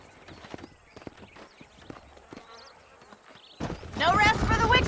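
Horses' hooves clip-clop at a walk in Red Dead Redemption, a run of soft, irregular hoof knocks that swell louder near the end as a voice talks over them.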